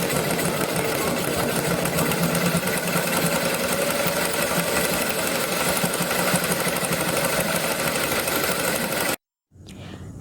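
A sewing machine embroiders a tablecloth with a steady, close, continuous mechanical whir and rattle that runs unbroken for about nine seconds, then cuts off abruptly into near silence.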